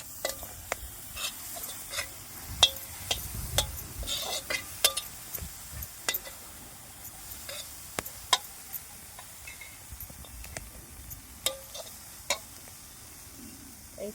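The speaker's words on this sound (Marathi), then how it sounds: "एक चांगली मस्त तेलात भाजून घ्यायची." Food fries in hot oil in a pan, with a steady soft sizzle broken by repeated sharp clinks of a spoon stirring against the metal, close up and with no talk.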